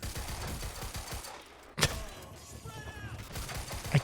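Gunfire in the video game Quantum Break, a handful of scattered shots and thuds with one sharp, loud crack standing out midway over a steady low game background; no talk.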